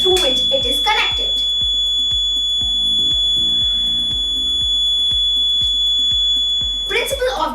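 Loud electronic beeping from a water overflow alarm, a piercing tone sounding at the start and end around a long run of regular clicking pulses, with a voice speaking over part of it.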